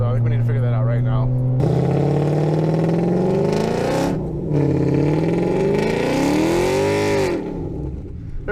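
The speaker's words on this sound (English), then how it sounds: "All right, let's see if this car can burn out" A tuned 3.7 Mustang with 3.73 gears revs hard during a burnout, its engine note climbing and falling in loud, sustained surges close by, with a brief dip in the middle.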